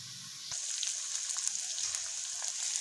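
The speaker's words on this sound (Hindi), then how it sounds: "लहसुन और इसका पेस्ट ऐड करने के बाद हम लोगों ने इसको अच्छी तरह से फ्राई कर लेना है मसाले को" Ginger garlic paste drops into lightly browned onions in a hot pan and bursts into a sudden loud sizzle, then settles into a constant crackling hiss, close by with no talking.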